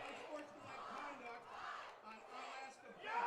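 Crowd noise at a high school football game, Onalaska vs Holmen, a steady roar of cheering and shouting voices filling the stands, swelling and dipping with a louder surge at the end.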